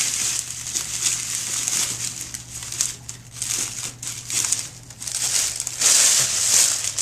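Cellophane for an Easter basket crinkles steadily as it is gathered and twisted tight, a dense crackly rustle that swells and fades in repeated waves, close and fairly loud, with a low steady hum beneath.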